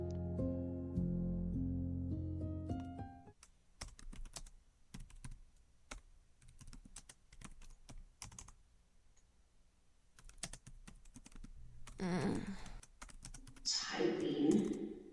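Irregular bursts of clicky computer-keyboard typing, close and fairly crisp, follow a soft musical passage that fades out after a few seconds, with brief rustling near the end.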